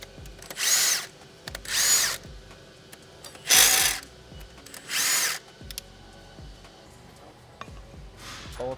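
A power tool cracking loose engine cam bolts while installing LSJ Stage II cams and valve springs, with four loud bursts of whirring rattle about a second long, separated by quieter pauses with faint mechanical clicks, close, no talking.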